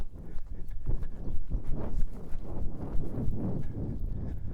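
A horse's hooves thud in an uneven walking rhythm on soft ground, close by and moderately loud, with faint rustling between steps.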